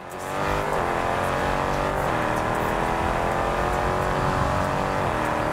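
A Mercedes SLK 55 accelerates at full throttle in the Test Drive Unlimited racing game, its engine droning loud and steady with pitch climbing and dipping through gear shifts, close and uninterrupted by speech.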